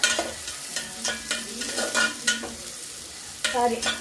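Onions sautéing in hot oil are stirred with steady, repeated scraping strokes over a soft, constant sizzle, close and clear with no talking.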